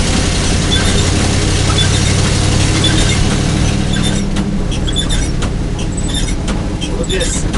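A car ride back to a house, with a steady road rumble and engine drone running throughout, a brief squeal, and a voice talking over it.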